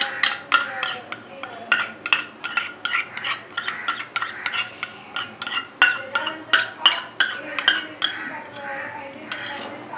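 Spoon scraping and clinking against a steel vessel while clarified butter (ghee) is added, a rapid series of bright metallic taps and scrapes repeating throughout, close and fairly loud.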